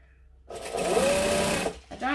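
A sewing machine runs in one short, steady whirring burst of rapid stitching through a vinyl bag, close and fairly loud, and stops after about a second.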